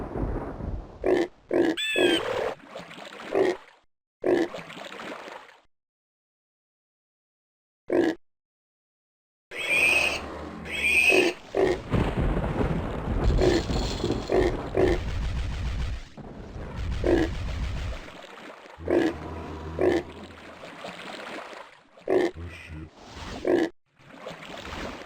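Pig grunts and oinks from a player morphed into a pig in the video game Heretic/Hexen, repeated close snorts with game sounds and brief silent gaps.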